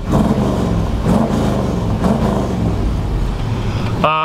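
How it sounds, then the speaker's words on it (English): A modified 1964 Chevrolet C10 pickup engine revs up and settles with its exhaust in quiet mode, rising in a few surges close by, loud and steady with no talking. "I'm going to rev the engine."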